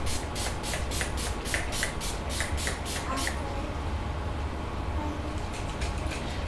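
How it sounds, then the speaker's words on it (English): Urban Decay All Nighter makeup setting spray misted over a made-up face, a run of about a dozen quick, evenly spaced pumps that stop halfway, then a couple more faint bursts near the end over steady room hiss. "Now I'm gonna spray some setting spray."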